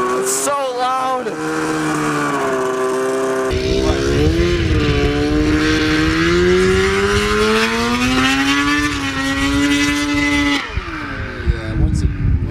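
A 100 HP go-kart engine roars loudly and close, bogging, then rising in pitch as it revs up. It cuts back near the end, and people talk over the noise.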